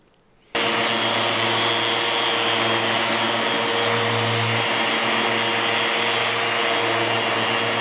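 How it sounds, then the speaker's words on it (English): A shop vac dust extractor switches on and roars steadily, cleaning cut lines and sanding dust off a Festool MFT/3 work table, loud and constant throughout with no talking. "I like to run a dust extractor over it, shop vac"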